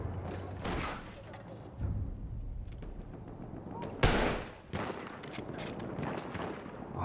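Gunfire in the Battlefield 1 video game, scattered shots and rapid bursts with one loud sharp blast midway, mixed with mechanical clatter and a voice talking in between.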